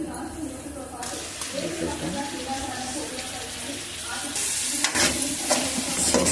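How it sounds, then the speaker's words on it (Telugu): Tomato juice poured into hot oil for a fish curry sizzles and fries steadily while a utensil stirs through it, with a voice talking over the cooking. "టమాటా ఆయిల్లో వేయించి ముక్కలు ముక్కలుగా కనిపించకుండా చక్కగా"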